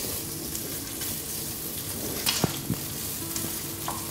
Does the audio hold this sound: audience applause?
no